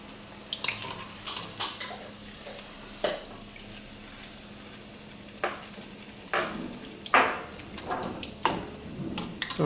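Cauliflower pieces frying in oil for Manchurian, a soft sizzle under repeated clinks and scrapes of a utensil stirring in the pan.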